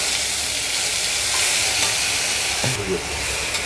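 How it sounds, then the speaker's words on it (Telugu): A ground spice paste for an ivy gourd curry fries in a pan, making a loud even sizzle while being stirred, with a couple of spatula knocks against the pan. "ఈ రుబ్బుకున్న మిశ్రమం వేస్తున్నాను"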